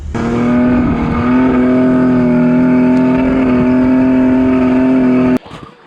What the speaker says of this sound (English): That was a wee bit of rev limiter up there.